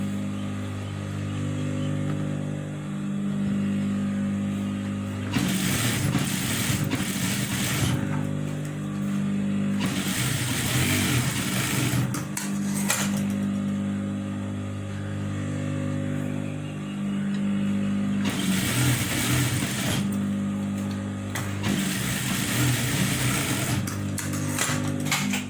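Sewing machine stitching a back-open blouse, with bursts of rapid mechanical clatter alternating with pauses over a steady low motor hum, close and moderately loud, with no talking.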